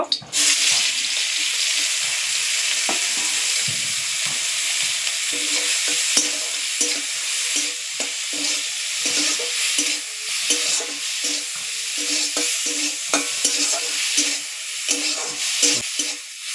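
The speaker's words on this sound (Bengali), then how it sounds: "কড়াই চিংড়ি মাছটা দিয়ে নাড়ছি লাল করে ভাজতে হবে" Prawns sizzle steadily in mustard oil in a kadai, with frequent scraping stirs and light clinks from the spatula throughout, loud and close with no talking.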